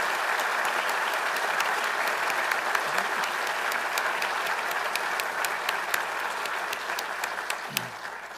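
An audience applauds at an Army War College faculty award ceremony, a dense, sustained wash of many hands clapping at steady loudness throughout.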